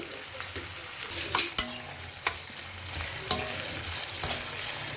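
Cherry tomatoes frying in oil while a ladle stirs them, a soft steady sizzle broken by several sharp clinks and scrapes of metal, with no talking.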